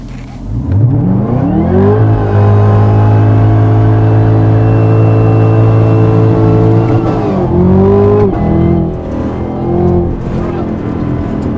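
A 2020 Chevy Camaro ZL1 1LE doing a launch with a brief standing burnout, its engine revving up loud and close, then holding a sustained high-rpm roar before a sharp shift and continued acceleration.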